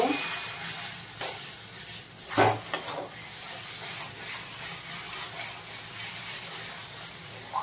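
A spatula stirs bottle gourd peel bhorta with sugar in a pan over gentle sizzling and hissing steam, with a few nearby scrapes and clicks, faint and close, and no talking.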